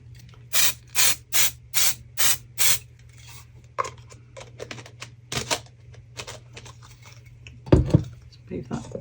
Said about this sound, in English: So I'm going to spray my moulds with the usual silicone release spray.